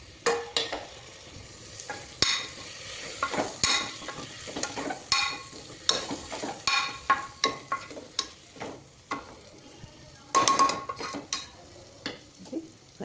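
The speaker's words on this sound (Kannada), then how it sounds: "ಅದು ಫ್ರೈ ಆಗ್ತಾಯಿದೆ ಫ್ರೆಂಡ್ಸ್" Chopped tomatoes frying in a pan for tomato bath, with a soft sizzle beneath repeated close stirring strokes and clinks of a utensil against the pan, irregular and lively, no voices.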